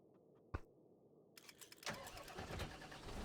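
A tractor engine in Farming Simulator 25 cranks after a couple of sharp clicks, then catches and settles into a rising, rumbling idle that grows louder toward the end, with no speech.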